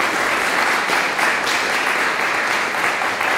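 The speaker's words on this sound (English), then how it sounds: "So let's give him a hand clap as well." A crowd applauds steadily, dense clapping close and continuous from start to finish.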